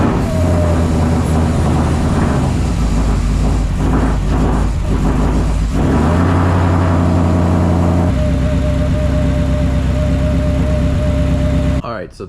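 A modified Ford S650 Mustang fitted with an ethanol sensor starts up and settles into a steady, loud, close idle with a deep rumbling drone that continues for several seconds.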